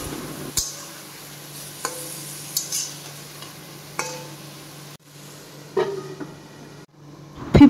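Chicken curry stirred in a pan with a spoon, Pakistani style, with green chili slices: scraping strokes and soft clinks at irregular intervals over a low steady hum, close and fairly quiet, no talk.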